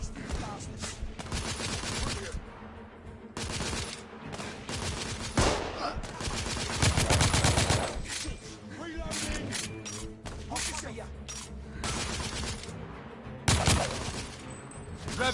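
Sustained gunfire in The Order: 1886, with dense bursts of rifle and automatic shots rattling almost continuously, loud and close, including heavy sniper-style cracks, while voices talk over the firefight.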